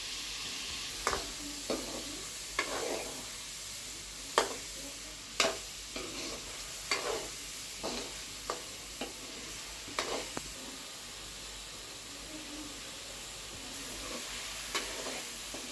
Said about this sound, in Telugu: పన్నీర్ ముక్కలు అయితే వేగడం అయిపోయింది.